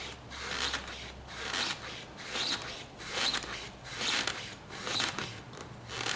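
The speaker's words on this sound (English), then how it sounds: "Turn the drum by hand to make sure it doesn't flip the blade." The drum of a Samsung ML1610/SCX4521 toner cartridge, turned by hand during a refill, gives a close, dry scraping rasp that swells and fades in repeated strokes about every second.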